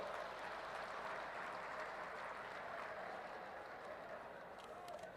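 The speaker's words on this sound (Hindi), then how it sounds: "जोरदार तालियों के साथ" A large audience at an election rally applauds to welcome Prime Minister Narendra Modi. The clapping is a steady, dense wash from a big crowd, heard at a distance and evenly sustained throughout.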